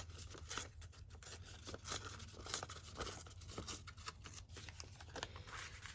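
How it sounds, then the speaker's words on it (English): Paper torn by hand for a junk journal page, a run of close, crisp ripping and crinkling bursts repeating steadily over several seconds with no voices. "So I will just tear that down a bit."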